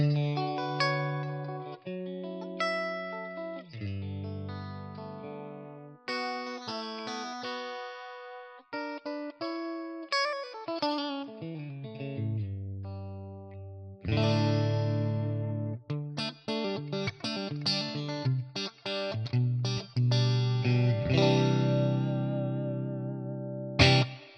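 A clean electric guitar played through a Tonex One amp modeler plays chords and single notes with a bright, glassy tone, some strums ringing out, others cut short.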